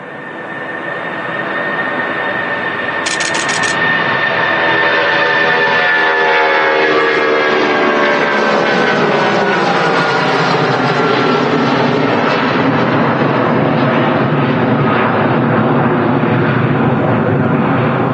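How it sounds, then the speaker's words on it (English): A Jet2 Boeing 757 takes off at Manchester Airport on an evening departure, its engines building into a loud, sustained roar that stays strong and close throughout, with a brief high whine early on. "So you got a Jet2 75 now rolling to Palma de Mallorca."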